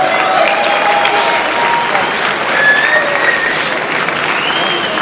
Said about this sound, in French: je vais vous demander du respect et de l'applaudissement pour les deux Nakmoué